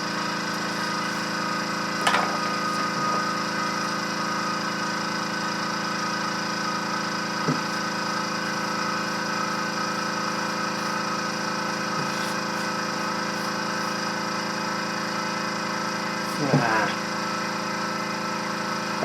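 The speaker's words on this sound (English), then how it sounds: "Now that noise in the background is the compressor for my airbrush, so you know that's what it is." A small air compressor feeding an airbrush runs as a steady, droning mechanical hum throughout, with a few brief clicks and knocks on top.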